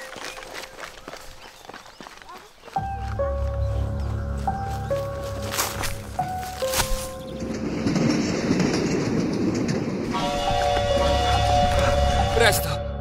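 Steam-train clanking and rumble from the horror video game Choo Choo Charles approaches over a loud, steady low drone, with sustained whistle-like tones and footsteps-like knocks, while voices talk over it.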